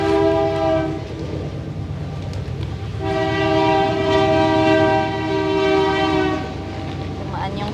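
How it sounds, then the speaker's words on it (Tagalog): A train rumbles past close by, its horn blaring in long sustained blasts over the steady clatter of the cars. "Dumaan yung tren."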